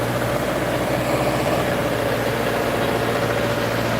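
A small Lovol 354 mini tractor engine of 35 horsepower idles steadily up close, a constant low chugging hum with no voices.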